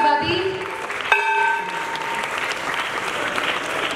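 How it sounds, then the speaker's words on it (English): Audience applause at a business network inauguration event, dense, continuous clapping with a struck gong ringing out sharply about a second in and its tone hanging over the crowd as voices mix in. "Huge round of applause, everybody."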